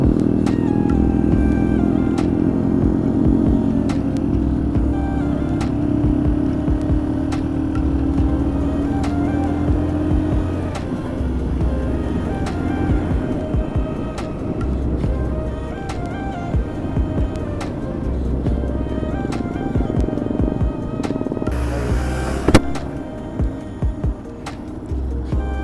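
Group of about twenty motorcycles riding together on a Sunday group ride, a continuous loud throbbing engine rumble with shifting revs and a short burst of wind noise near the end, no talking.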